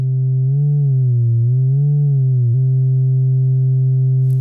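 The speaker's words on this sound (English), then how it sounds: "Very nice, clean sine wave." An Erica Synths Black VCO2 oscillator gives a clean, loud sine tone that wavers gently in pitch for a few seconds, then settles into a flat, unbroken hum.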